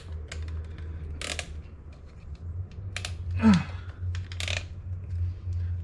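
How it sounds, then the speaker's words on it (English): Zip ties are pulled tight around wiring on a Carolina Skiff 21 LS boat during an install, giving a few short, crisp ratcheting zips and clicks scattered between pauses, close and clear over a low steady hum. "We'll take the zip ties and zip this back up in here."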